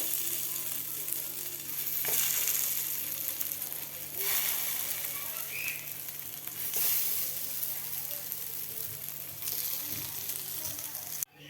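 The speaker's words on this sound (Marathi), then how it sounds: "आता आपण बाकीचे सुद्धा राहिलेले व्यवस्थित आपल्याला फ्राय करून घ्यायचे आहेत" Beetroot and potato cutlets shallow-fry in a pan with a continuous crackling sizzle and low background hum, broken by a few brief louder bursts of spatter or stirring.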